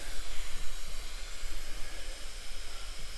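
Gas escaping from a pressurised container of still-fermenting Mountain Culture Brewing Co. Dolly NEIPA, a loud close hiss that pulses and sputters unevenly for several seconds, with no one talking.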